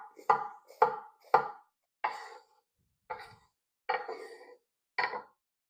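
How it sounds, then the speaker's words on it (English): A knife cuts up a vegetable on a board, with seven crisp chopping thuds, quick at first and then spaced out, close and fairly quiet, with no talk. "And then we just cut it up."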